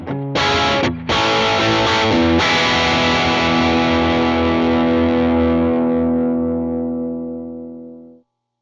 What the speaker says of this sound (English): we've focused on distorted electric guitar sounds